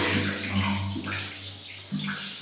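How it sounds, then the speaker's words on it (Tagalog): Water gushing strongly into a water tank being cleaned, a steady close rushing stream with a low hum underneath and a brief voice. "Lakas ng tubig."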